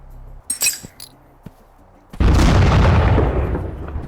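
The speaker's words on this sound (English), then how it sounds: "It's an impact grenade." An impact grenade detonates in the voxel game Teardown played in virtual reality. A few light clinks and pops come first, then a loud, close boom with a long rumbling tail that fades slowly.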